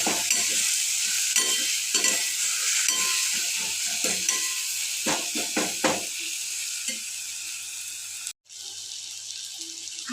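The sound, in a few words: stirring chopped tomato in frying pan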